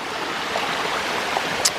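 Jungle waterfall heard as a steady broadband rush of falling water, continuous and fairly loud, with no talk over it.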